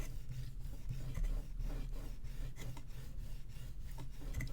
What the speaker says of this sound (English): Give that a good burnish.